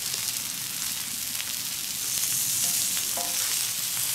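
Pork fillet sizzles loudly on a fire plate as it is turned, a dense continuous frying crackle with faint scraping and a brief clink near the end.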